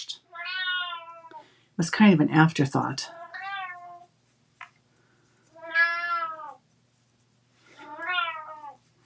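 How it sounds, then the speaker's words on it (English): A cat meows loudly several times with pauses between calls, drawn-out and rising, with a brief burst of human speech between the first two meows. "I apologize for the noisy kitty."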